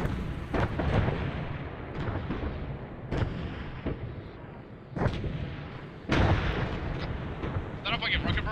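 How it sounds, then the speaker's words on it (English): A rocket barrage in Arma 3 slams down as a series of heavy explosions, about five booming impacts spaced roughly a second apart with rumbling tails, with faint voices underneath. "Is that a fucking rocket barrage?"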